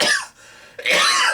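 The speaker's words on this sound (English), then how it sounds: "I have a bit of a cough" Two coughs from a person, one broken burst and then a second, louder and longer, heard alone and close up.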